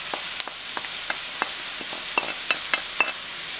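Softened onions with fresh and dried mushrooms frying over high heat in a pan for barley soup, a steady close sizzle broken by sharp crackles and stirring scrapes.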